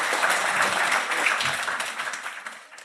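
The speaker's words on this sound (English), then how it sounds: "one more round of applause for Ian White, please." A crowd applauds steadily, dense clapping at fairly close range that fades slightly toward the end.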